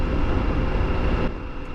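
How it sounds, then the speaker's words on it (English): A loud, steady low roar of a small plane's engine overhead above a town's main street, broadband and droning, easing slightly near the end. "Cool random plane on the main street."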